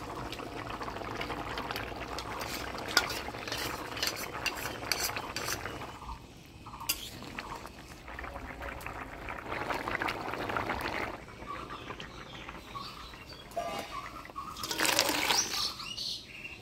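Fried tengra fish goes into a simmering curry broth with watery splashes, pouring sounds and clinks of a utensil against the pot, louder in short bursts between quieter bubbling stretches.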